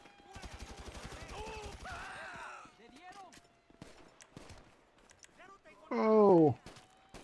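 Gunfire in GTA Online during the Cayo Perico heist, a rapid burst of automatic shots at the start followed by scattered single shots and footsteps, with someone talking and exclaiming over it.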